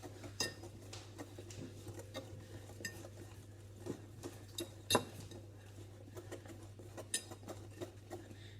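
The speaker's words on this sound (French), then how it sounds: "Et comme avec le sucre vanillé, on va touiller." Utensil stirring coconut cookie batter for langues de chat in a bowl, with light scraping and a few sharp clinks against the bowl at irregular intervals over a steady low hum, no talking.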